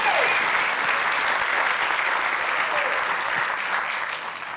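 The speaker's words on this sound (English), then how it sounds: "Please join me, big round of applause for Citizens Bank." A large crowd at a corporate business event bursts into loud, continuous applause honoring a sponsoring bank, a thick wash of clapping that holds steady before tapering slightly.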